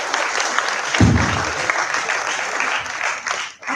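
Audience at a college founders' session breaking into sustained, loud applause from a large crowd, with some voices under the clapping.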